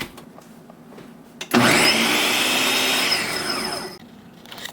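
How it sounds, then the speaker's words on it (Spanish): A blender whirs loudly and steadily for about two and a half seconds as it purées the ingredients for a chicken sandwich salsa, celery among them, then winds down. Quieter background noise comes before and after. "ahora ya tenemos todos los ingredientes acá y lo vamos a licuar todo junto"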